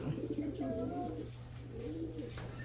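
Racing pigeons coo softly at a loft during a first-lap derby in Santiago, Isabela, with low, rolling calls repeating over a steady hum.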